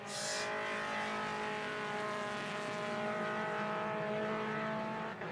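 Mazda MX-5 Cup race cars at VIR idle around on a slow safety car lap, a steady droning engine hum with faint tonal whine, moderately distant and continuous.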